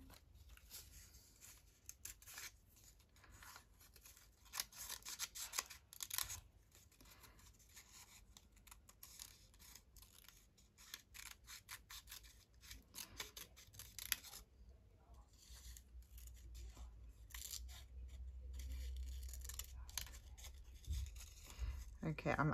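Scissors snip through paper in repeated crisp cuts, close by, with rustling of paper between strokes and brief pauses.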